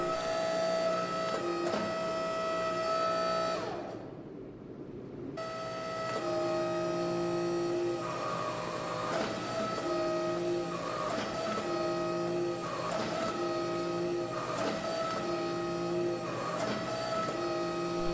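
A two-step power press forges wrought iron san mai, its hammering and pressing sounding in a steady mechanical rhythm of repeated pulses with a brief pause partway through, and no one talking.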